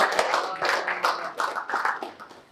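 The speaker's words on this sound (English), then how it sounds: "let's give Blair and Max a round of applause." A small audience clapping for two people at a talk on multifamily syndications, a short burst of close applause that thins out toward the end.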